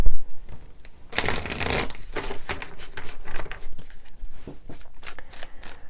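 Tarot cards being shuffled by hand, a series of crisp riffling bursts and soft slaps of the deck, close and clear with no talking.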